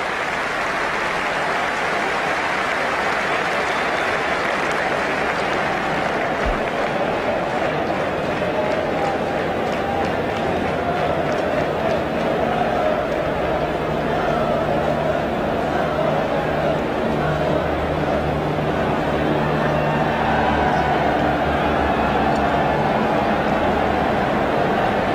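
Stadium crowd at the 1992 Cricket World Cup final between Pakistan and England, a dense steady roar and murmur of many spectators, broad and sustained without breaks, with commentary voices blended in.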